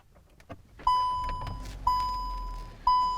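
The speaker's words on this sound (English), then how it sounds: "This car does have some really annoying bongs. Like binging and bonging." A Kia Stonic or Mazda CX-3 sounds three evenly spaced warning bongs about a second apart inside the cabin, each a clear ringing tone that decays, with faint clicks and rustling before the first.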